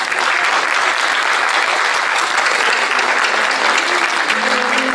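Dense, sustained audience applause for a singer after her song, loud and continuous throughout without a break.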